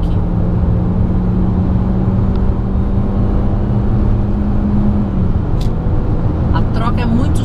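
A 2020 Chery Tiggo 5X SUV with a 1.5 turbo engine and dual-clutch gearbox accelerates hard, its engine drone steady and loud inside the cabin, with a smooth shift near the end.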